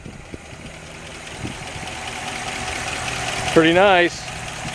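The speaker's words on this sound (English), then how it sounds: "Sounds like your typical 312. Pretty quiet, just has stock exhaust." A 1957 Ford Thunderbird's 312 V8 idles steadily through its stock exhaust, a fairly quiet, even rumble close by, with someone speaking briefly over it and a short tonal sound near the end.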